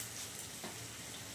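Onions and green chillies sizzle in a frying pan with a steady, broad hiss, fairly quiet and close, with a brief stirring scrape midway and no talk.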